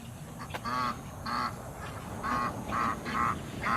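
Geese honk in repeated bursts, several calls in a loose rhythm, fairly close over a steady background hiss.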